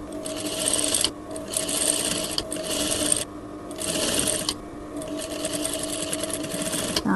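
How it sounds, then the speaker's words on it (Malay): A sewing machine stitches a hidden zip onto finished clothing, its steady close mechanical whirr running in bursts with brief pauses throughout. "Barulah kita jahit."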